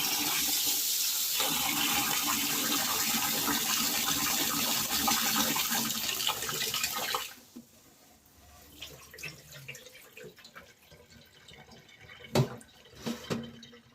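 Rice being washed under running water in a kitchen, a loud continuous rush of water for about seven seconds, then quieter sloshing, dripping and a few sharp clinks and knocks close by.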